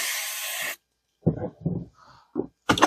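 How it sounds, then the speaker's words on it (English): A can of contact cleaner gives one sharp, loud hiss of under a second into a RAM slot on a vintage motherboard, followed by quiet knocks and handling noises. "I'm gonna spray some contact cleaner in there too"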